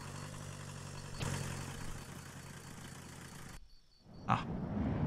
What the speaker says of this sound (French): J'ai le moteur allumé, ce qui m'inquiète, j'aurais dû l'éteindre.